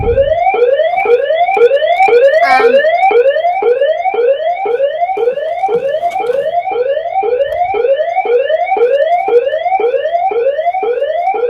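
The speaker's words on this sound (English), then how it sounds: "The alarm went off." A loud, rapidly repeating electronic alarm sweeps upward again and again in a steady rhythm, blaring without pause.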